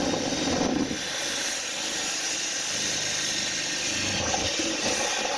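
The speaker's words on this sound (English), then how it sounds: "and now we're going to drill them." A power drill bores holes through a trailer wall for a shelf bracket, giving a steady, fairly loud whirring buzz that runs nearly unbroken from start to finish with no talking.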